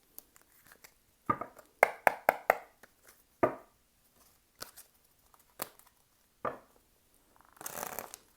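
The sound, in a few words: shuffling tarot cards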